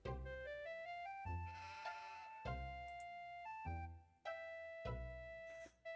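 Repeated wavering sheep bleats, several in a row with short gaps, loud and close, with a synthetic, game-like tone.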